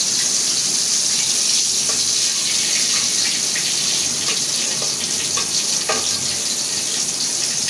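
Kural fish frying in hot oil in a pan, a steady close hiss and crackle of sizzling throughout, with a few sharper pops scattered across it.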